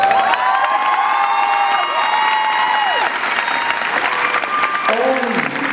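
Sustained applause with cheers and whoops from a crowd at a high school graduation ceremony, loud and continuous, with scattered high-pitched shouts rising over the clapping.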